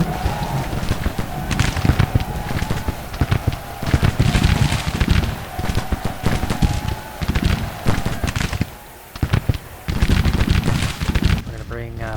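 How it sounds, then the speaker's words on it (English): Scattered musket volleys crackle continuously from a retreating brigade in the Grand Tactician: Civil War strategy game, a steady rattling battle din with a narrator talking over it. "Firing as they retreat."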